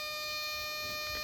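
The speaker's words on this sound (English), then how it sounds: "If I leave the lights on and take the key, I have a buzzer." Lights-on warning buzzer in a 1989 Daihatsu Charade, a steady electronic tone sounding continuously and alone at low level in a quiet car.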